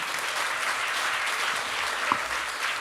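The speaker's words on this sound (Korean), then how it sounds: "다시 한번 큰 박수 부탁드리겠습니다" Steady applause from a lecture audience after a Korean academic presentation, a continuous wash of clapping with no pauses, moderately loud and even throughout.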